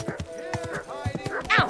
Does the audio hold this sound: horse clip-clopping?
yes